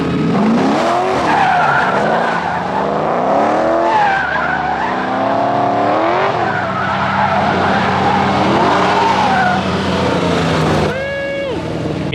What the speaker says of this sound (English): So drifting, let's go.